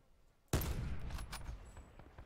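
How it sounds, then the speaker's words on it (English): Rapid bursts of gunfire in a multiplayer shooter video game: a loud barrage breaks in after a half-second lull and rattles on continuously, close and dense, with no talking in between. "there's shots all around us"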